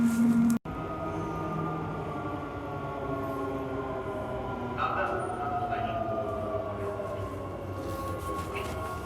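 Steady rumble of a passenger train in motion, heard from aboard, with continuous rolling noise, faint tonal wheel squeals and a brief dropout near the start.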